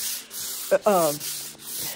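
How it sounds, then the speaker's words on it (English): Close-up rubbing of fine sandpaper on an antique 1800s oak table in short back-and-forth strokes, with a brief squeaky scrape partway through. "So now I will do some fine sanding"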